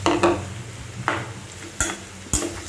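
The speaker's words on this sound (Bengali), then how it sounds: "খুব ভালোভাবে নেড়ে চেড়ে পুরোটাকে একসাথে মিক্স করে নিতে হবে।" Chopped onion and boiled potatoes are stirred in a hot pan for an Afghani egg omelette, with a soft sizzle under a few sharp scraping knocks of a spoon against the pan.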